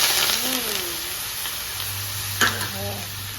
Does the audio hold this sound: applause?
no